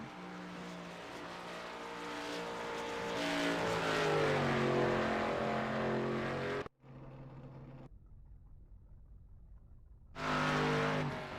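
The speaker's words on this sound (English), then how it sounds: "Side-by-side racing." Several race cars at The Rock dirt-free short track, a Nitro Series 100 event, roar side by side with layered revving engine tones, loud and sustained, briefly dropping away and then surging back in.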